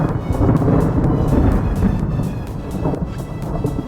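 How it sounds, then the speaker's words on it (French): Thunder from a thunderstorm over a pond rolls on as a continuous deep rumble, with steady rain and wind noise throughout. "entre temps il y a eu un petit orage"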